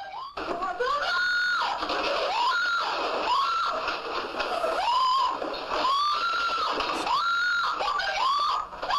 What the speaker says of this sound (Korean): 여주인이 소리를 지르며 도망갑니다